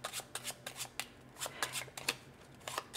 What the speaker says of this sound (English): We'll give those cards a quick shuffle.